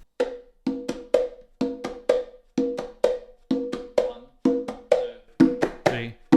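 Conga playing a steady chicha pattern, with close, sharp slaps and open tones repeating evenly at a slow count, clear and close up with no talking.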